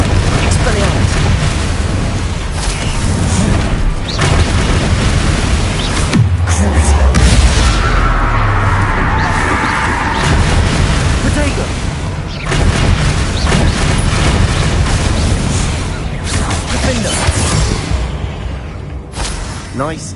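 Confringo fire spells burst during a troll fight in Hogwarts Legacy on PS5, heavy booming blasts and whooshes layered over loud continuous battle noise and shouted character voices.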